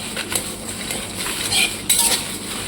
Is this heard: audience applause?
no